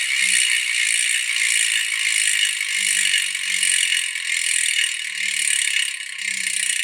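Loud, continuous buzzing ratchet whir from a Voicevelo G-major bicycle freehub spun freely, a dense high-pitched clicking held steady and close throughout.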